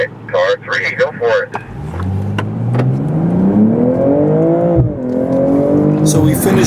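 A car on an autocross course launches and accelerates hard, its engine note climbing steadily in pitch through the gears, loud and close, with a brief stretch of talking just before.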